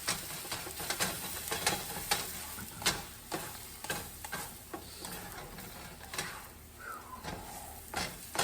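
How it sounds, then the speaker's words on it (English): Eggs frying with onions and bologna in a pan, a steady sizzle under repeated sharp scraping clicks of a utensil stirring, close and fairly loud throughout. "mix it up."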